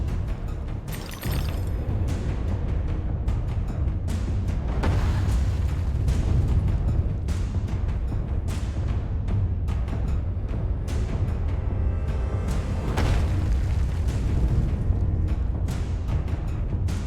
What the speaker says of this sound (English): hear cannons